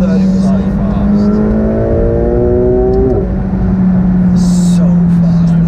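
A McLaren 720S Spider accelerates under partial throttle from inside the cabin, its engine note rising steadily through the revs, then dropping at a gear change and holding a lower drone. Faint voices occasionally sit under it.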